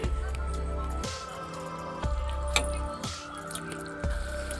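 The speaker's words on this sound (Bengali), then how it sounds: "একটু নাড়িয়ে নেব।" Shrimp malai curry is stirred in a pan, giving soft wet squelches and drips that repeat about once a second in a steady rhythm. The sound is close and moderately quiet, with no talking.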